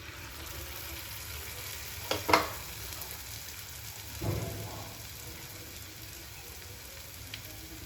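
Onion vada batter drops into hot oil and fries with a continuous close sizzle, with a sharp spattering burst early on and a softer bubbling swell later.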